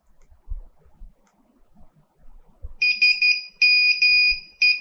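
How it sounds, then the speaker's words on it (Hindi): After a few faint clicks, the alarm tone of an Etachi Five Star mobile phone starts beeping in repeated electronic pulses, bright and steady, playing alone. "अलार्म की रिंग टून कैसी हैं"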